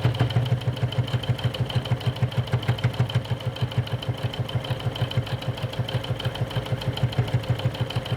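A sewing machine runs steadily, its needle stitching in a fast, even mechanical rhythm along a line while sewing a drawstring bag, close and unbroken throughout with no talking.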